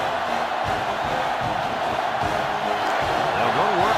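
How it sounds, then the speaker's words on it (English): Stadium crowd noise in the NCAA Football 2005 game on GameCube: a dense, steady roar from a packed stadium runs the whole time at even loudness, with a play-by-play commentator talking over it. "The crowd really making it difficult."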